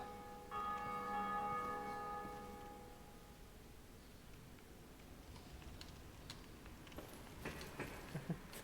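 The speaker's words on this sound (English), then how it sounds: "Is it normal for bells to ring when you collect a bunch of souls?" In Dark Souls, a bell tolls after a large collection of souls. A single resonant toll rings out and fades slowly over several seconds, followed by faint clatter and footsteps.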